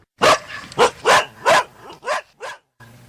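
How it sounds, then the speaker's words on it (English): Police tracking dogs bark in a series of about seven loud, close barks at an uneven rhythm, with a faint low hum at the end. "The dogs have the scent, and they are heading toward the courthouse."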